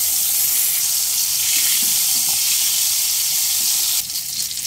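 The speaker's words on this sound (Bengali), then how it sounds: "ওই একই তেলের মধ্যে আমি আলুগুলো সব দিয়ে দেব।" Potatoes dropped into the same hot oil used for frying eggs, a loud continuous hiss and sizzle close up that eases slightly toward the end, with no voices.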